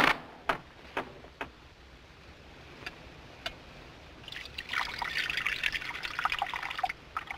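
Water poured into a cup, a fairly faint trickling pour building up after a few soft knocks and clicks, heard close with no talking over it.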